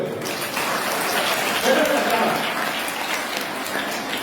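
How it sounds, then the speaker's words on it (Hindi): Children in a classroom clap together for a classmate, a dense, steady patter of small hands that holds evenly throughout, with a faint voice underneath. "इस बच्चे के लिए ताली बजाओ।"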